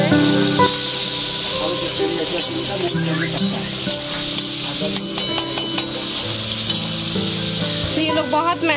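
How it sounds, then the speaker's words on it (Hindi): Fish and prawns fry in hot oil at a lakeside food stall, a loud, close, continuous sizzle with stirring scrapes and faint voices underneath. "यहाँ फिश को फ्राई कर रहे हैं अभी और इधर चिंगड़ी को फ्राई कर रहे हैं।"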